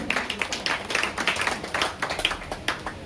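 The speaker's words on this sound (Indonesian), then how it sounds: "Tepuk tangan buat Tuhan." Congregation clapping hands during an Ascension Day church worship service on a beach, individual claps in a loose rhythmic patter, quiet and fairly close.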